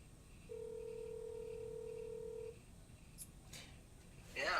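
Telephone dialing: a single steady dial tone holds for about two seconds, then stops, followed by faint clicks and a brief burst of noise near the end, all fairly quiet.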